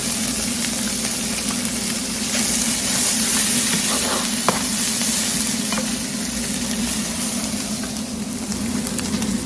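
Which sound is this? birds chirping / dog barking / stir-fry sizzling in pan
stir-fry sizzling in pan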